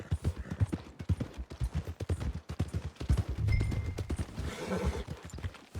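Horse hooves clip-clopping with a neigh in the Red Dead Redemption 2 video game, near and fairly loud, with game music or voices underneath.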